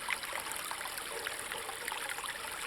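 A small stream flows and trickles steadily, a soft continuous babble of water over stones, close but quiet, with no voices.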